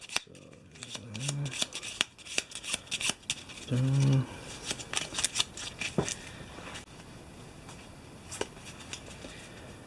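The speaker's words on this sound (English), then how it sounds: "just give it a quick shuffle" A deck of Eldritch Horror board game cards being shuffled by hand in quick bursts of papery riffling and rubbing, close-up, with someone talking briefly between shuffles.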